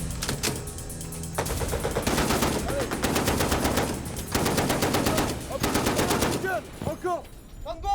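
A warship fires warning bursts of gunfire at a suspect boat: loud, rapid automatic fire in several long bursts with short pauses between them, and brief voices breaking in near the end.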